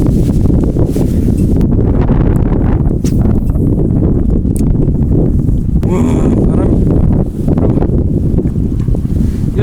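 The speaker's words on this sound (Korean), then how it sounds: "바람 미쳤다." Strong wind blowing at a seaside fishing spot: loud, constant buffeting roar on the microphone with gusty surges throughout, and a voice occasionally heard beneath it.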